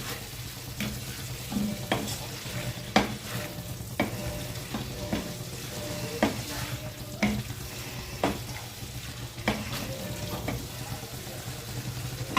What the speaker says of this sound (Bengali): এবার ভালোভাবে সবজির সাথে মিশিয়ে দিচ্ছি।